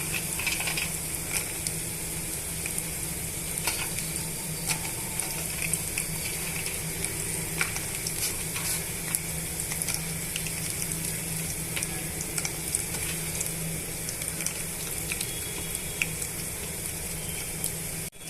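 Peanuts frying in hot tempering oil for a dhaba-style peanut chutney, a steady close sizzle running continuously with faint crackles and pops scattered throughout, no voices.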